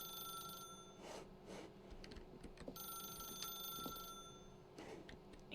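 A telephone rings in The Stanley Parable, a video game, with repeated bright electronic ring bursts separated by short gaps over a faint steady tone.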